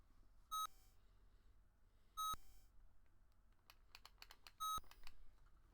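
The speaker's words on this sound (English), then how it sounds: "It's beeping a lot." A TI-99/4A home computer, just reset, gives three short sharp beeps at regular intervals of about two seconds, with faint key clicks and taps in between in a quiet room.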